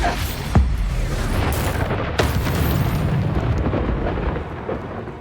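Expulso explosion spell in Hogwarts Legacy, a loud booming blast with a sharp initial crack followed by a second burst and a long rumbling roar of debris that fills the whole stretch.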